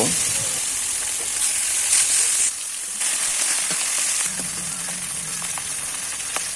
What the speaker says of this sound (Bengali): একইভাবে বাকি মাছগুলোও ভেজে নেব